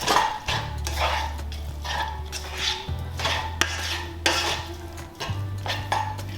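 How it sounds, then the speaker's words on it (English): Spoon stirring seasoned shredded crispy chicken with salt, pepper and cumin for Brazilian coxinhas, scraping and clinking against a bowl or pan in steady close strokes with a low hum underneath. "So just a little bit of salt, pepper, and then I'm just gonna add some cumin. Mix that all together."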